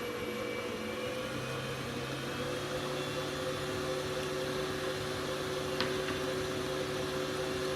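An electric mixer beats wholemeal chocolate cake batter with a steady, continuous whirring drone at an even level, without breaks.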